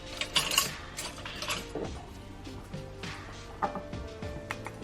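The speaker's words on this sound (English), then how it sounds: "whisk the colors together" Soap accent colors, blue and gold, whisked together in a cup: quick clinking, scraping strokes of a whisk against the cup's sides, close and moderately loud, with no voices.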